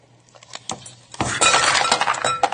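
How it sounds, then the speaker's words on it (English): Ice cubes dumped into a container, a few scattered clinks followed by a loud cascade of rattling, clattering cubes that tumble and settle with a final knock. "dump the ice cubes in here"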